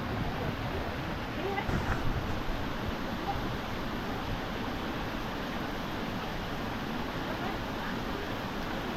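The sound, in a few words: waterfall in a mountain valley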